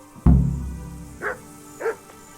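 Dog barking in the medieval role-playing game Kingdom Come: Deliverance, one sharp loud bark followed by two softer, shorter yelps, close by and heard alone.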